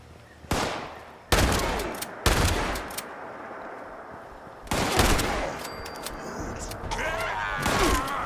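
Shotgun blasts in the video game Fallout 76: four loud, sharp booms spaced irregularly over several seconds, each with a short rumbling tail, with softer game noise and voice sounds in between.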